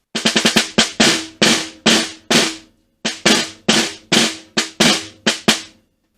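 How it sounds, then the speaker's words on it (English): A snare drum phrase from a rhythm etude played by pressing both sticks into the head at once, giving short staccato buzzes: a rapid opening flurry, then evenly spaced crushed strokes with a gap partway; close and loud, no voices. "Another option you could do is actually just press both of your sticks into the drum at the same time."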